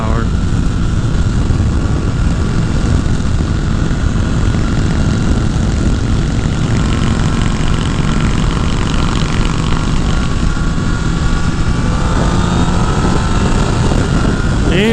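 A Honda CBR 1000 Repsol sport motorcycle pulling hard in fourth gear from around 60 mph, a loud continuous engine roar with a rising tone near the end, heavy wind rush over it, close to the rider.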